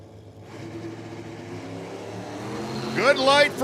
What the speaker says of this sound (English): We got a drag race.